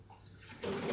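Water is poured into a Thermomix bowl, a short close splash that swells louder in the last half second.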